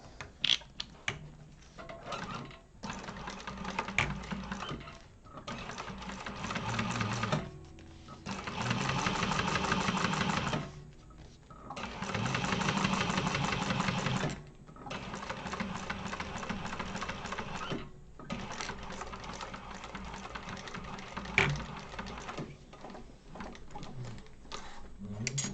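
A sewing machine top stitches through the front panel of a crossbody bag, running in steady whirring stretches of several seconds broken by brief pauses, close and fairly quiet.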